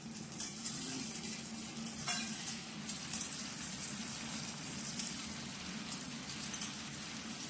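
Chopped tomato fries with fried onions in a pan for Bengali chicken kasa, a steady crackling sizzle with scattered pops and occasional stirring scrapes, close and moderately loud.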